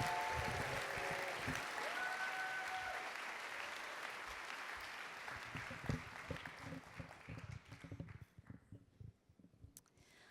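Loud, dense applause and cheering from a live storytelling-event audience, sustained for several seconds before thinning into scattered claps and fading out.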